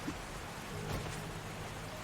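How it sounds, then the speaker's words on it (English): Steady rainstorm in the survival game 7 Days to Die, a continuous broadband hiss of falling rain with a low rumble beneath, heard alone without any talk. "we finally got that storm, huh? I like when it rains"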